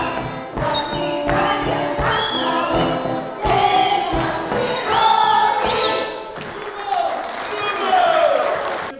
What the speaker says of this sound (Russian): На аплодисменты зрители не скупились